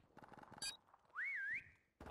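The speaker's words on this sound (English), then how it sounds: "Oh, don't whistle, don't whistle, don't whistle." A whistle sounds in a prop hunt video game as one rising, wavering pitched tone lasting about half a second, set among quiet game noises and short bursts.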